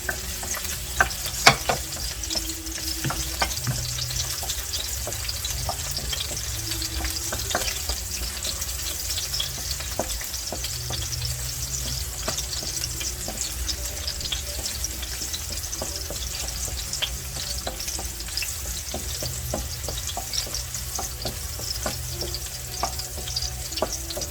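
Garlic sizzles steadily in hot oil while being fried golden for Thai fried rice, with a continuous close crackle, occasional stirring clicks and faint water or tap sounds in the background.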